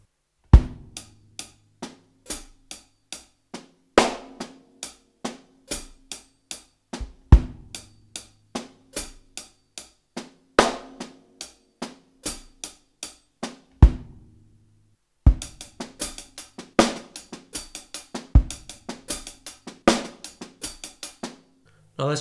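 A linear drum groove with the backbeat moved to the right hand rings out as sharp, dry hits with deep kick thumps, played alone and close, growing busier and denser in the last stretch.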